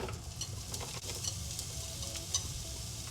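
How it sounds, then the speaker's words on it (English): Onions sizzle as they sauté in hot vegetable oil in a pot, a steady soft frying hiss with a few scraping stirs and light clinks, close and without talk. "First, let's put our onions in."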